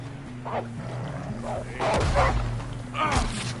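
A dog barking and attacking in Red Dead Redemption 2, several sharp, close barks and yelps spaced over a low steady background hum, with a voice talking in between.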